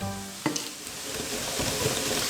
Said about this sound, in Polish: Nasza wołowinka, jak słyszymy, smaży się